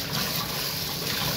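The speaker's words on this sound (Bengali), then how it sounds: "তা দেখুন আমি এইভাবে ধুয়েও নেব, এই যে ভালো করে জল দিয়ে" Tap water runs steadily over pieces of ash gourd being rinsed in the kitchen, a close, continuous splashing flow for a brief moment.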